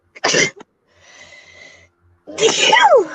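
A single sharp sneeze bursts out, followed by a pause, faint breathy noise, then a second voiced burst like another sneeze or exclamation.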